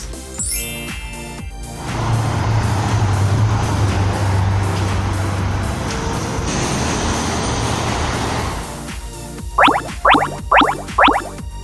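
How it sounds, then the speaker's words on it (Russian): A red city bus engine rumbles steadily as it drives, a broad motor drone that holds for several seconds, then gives way to four short, bright chirping bursts at the end. "Это автобус."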